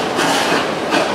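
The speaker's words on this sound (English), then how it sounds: "you can see the train going through right there." A roller coaster train at Busch Gardens Tampa rattles loudly through the lift in a steady clattering roar.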